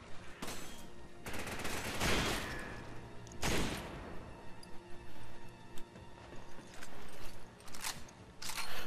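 Rifle gunfire in the Resident Evil 5 video game, with several loud bursts of shots separated by quieter stretches and scattered smaller impacts.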